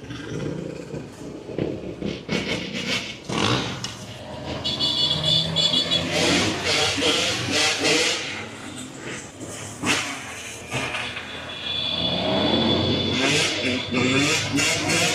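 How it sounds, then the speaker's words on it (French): A Ferrari drives through a barricaded French housing estate, its engine revving and surging in bursts among other passing cars, with people talking over it. "Wir fahren jetzt einfach gerade mit einem Ferrari durch die Hood."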